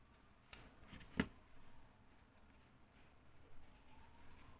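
Scissors snipping yarn for amigurumi pumpkin earrings, two sharp close cuts about a second apart, followed by faint quiet rustling in an otherwise hushed room.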